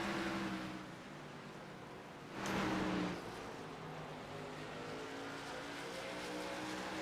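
Stock race cars roar around the Richmond short track, a steady loud engine drone with a louder pass-by swelling near the middle before settling back into the continuous pack noise.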